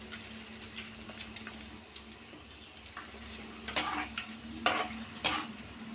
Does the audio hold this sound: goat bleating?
no